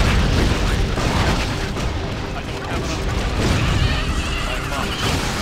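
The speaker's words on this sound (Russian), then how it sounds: "Они еще и взрываются опять же." Mushroom monsters explode during Torchlight 2 gameplay, heard as a dense, continuous roar of booms and bursts. The blasts are loud and constant, with combat noise packed tightly throughout.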